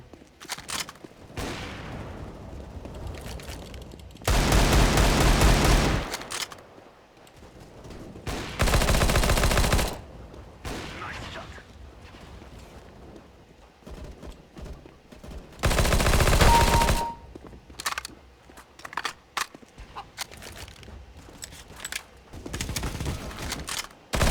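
Gunfire in the shooter game CS:GO: several dense bursts of rapid automatic shots, loud and close, separated by quieter stretches of lighter in-game noise.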